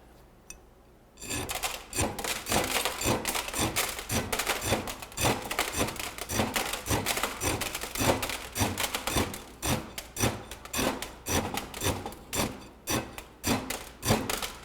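Steady rhythmic tamping strokes of a rod into aggregate inside a metal measure during a unit weight test, about two dozen close, scraping thuds in quick succession with no talk.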